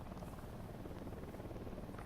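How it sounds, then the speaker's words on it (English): Enemy helicopter flying overhead in the Ghost Recon Wildlands video game, a steady, dense rotor and engine drone holding at even loudness throughout, with no clear talk. "I do have a helicopter overhead."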